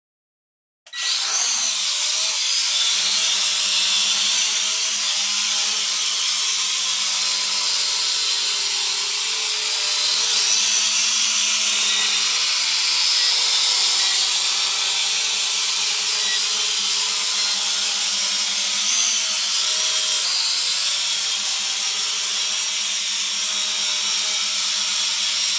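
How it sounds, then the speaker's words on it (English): A Fuse Tech X22 Titanium drone spins up for an automatic takeoff, its rotors breaking into a sudden loud, high, steady buzz that stays close and constant throughout with no talking. "I will do the auto takeoff and auto land to give you a demonstration of it"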